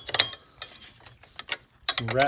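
A 19mm wrench tightens the power steering reservoir on an FJ60, with a few quick metallic clicks and ratcheting scrapes close by, and a brief voice cutting in near the end.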